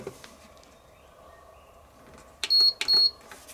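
A full-size rice cooker running from a Bluetti portable power station gives two sharp, high electronic beeps close together near the end, after a stretch of quiet background hum.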